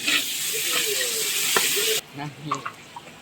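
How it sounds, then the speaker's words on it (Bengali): Whole spices such as cardamom, cinnamon, bay leaves and pepper sizzle loudly in hot oil in a pan for about two seconds, then the hiss cuts off, leaving softer stirring and a voice. "এলাচ, দারচিনি, গোলমরিচের গুঁড়ো, 2টো তেজপাতা, সাদা গোলমরিচের গুঁড়ো দিয়ে ভালো করে নাড়া দেব।"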